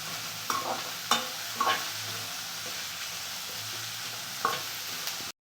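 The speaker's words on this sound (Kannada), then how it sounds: "ಇವಾಗ ಎಲೆಕೋಸು ಮತ್ತು ಕ್ಯಾಪ್ಸಿಕಮ್ ಹಾಕ್ತಾಯಿದ್ದೀನಿ ಇದನ್ನೊಂದು ಹತ್ತು ಸೆಕೆಂಡ್ ಬಾಡಿಸ್ಕೊಬೇಕು" Cabbage and capsicum sautéing for veg fried rice, with a steady sizzle and several sharp stirring scrapes of the spoon against the pan, close and fairly quiet, no talk.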